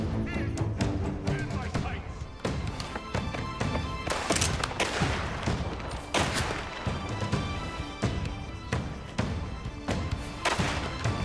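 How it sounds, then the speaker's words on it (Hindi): Repeated gunshots in a firefight in the video game Mafia: The Old Country, sharp bursts scattered throughout over dense game sound and talk. "जो दिख रहा है गोली चला रहा है उसको मारना पड़ेगा पहले"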